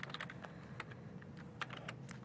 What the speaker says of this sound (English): Typing in Helen, and then I'm going to type in a nice format.